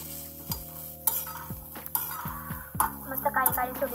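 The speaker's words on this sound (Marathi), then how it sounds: "पण मला तेलाचा जास्त वापर करायचा नाही, त्यामुळे मग मी असंच भाजून घेते" Pigeon pea pods dry roast in a pan without oil, with repeated sharp scrapes and clinks from stirring over a faint crackle, close by, while a voice talks over much of it.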